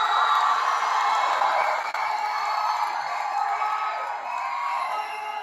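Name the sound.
applause for Santhanam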